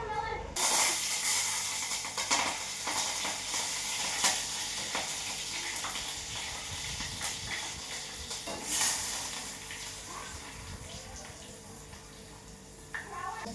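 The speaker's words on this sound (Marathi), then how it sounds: "खूप जास्त तेल गरम असल्यामुळे सगळं कढीपत्ता थोडासा ओला असल्यामुळे" Slightly wet curry leaves hit very hot oil and give a loud, continuous crackling sizzle up close, which slowly settles, with a voice faintly present underneath.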